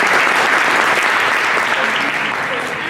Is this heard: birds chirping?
no